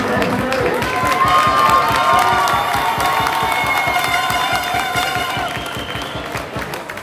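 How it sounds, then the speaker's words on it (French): Crowd at a rugby final in Occitanie, Auch against Caussade, cheers and applauds loudly and steadily, with music or tonal sound running over the noise and slowly fading toward the end. "un maximum de bruit et un maximum d'applaudissements pour Costade et Hoche."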